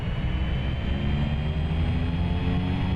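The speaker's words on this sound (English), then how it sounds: "Let's set our torque for takeoff power" A Cessna Grand Caravan engine in X-Plane 11 drones at takeoff power, a steady, loud, dense roar that holds unchanged throughout.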